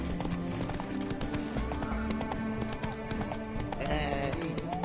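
A horse in The Witcher 3: Wild Hunt trots with rapid rhythmic clip-clop hoofbeats and whinnies once near the end, all close and fairly loud over faint ambient game sound.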